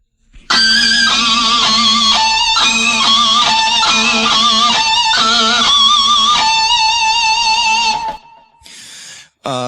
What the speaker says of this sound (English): to do that type of a squeal, you have to have a real distorted sound